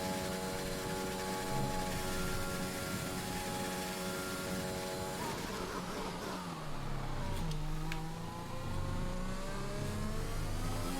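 A Formula 1 car in the F1 2021 racing game, its high-pitched engine holding a steady whine, then dropping and shifting through gears as it slows and pulls away again, heard continuously from onboard.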